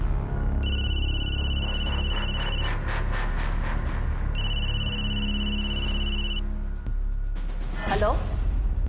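A telephone rings in two long electronic bursts, each about two seconds, separated by a short pause, heard close over a low background rumble, with a quick swoosh near the end.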